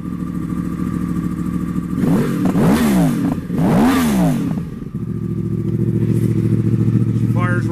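A 2014 Yamaha R1 sport bike engine, low mileage and running on a cold day, idles close by with a steady drone, then is blipped twice in sharp rising and falling revs before it settles back to idle.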